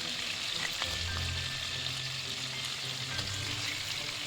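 Cinnamon, cloves, cardamom and cumin seeds frying in hot oil give a steady close sizzle, with soft stirring scrapes underneath and no talking.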